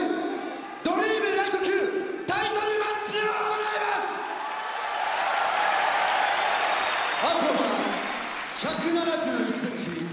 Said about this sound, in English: it's been quite a while since we've heard such a vocal crowd at Dream Events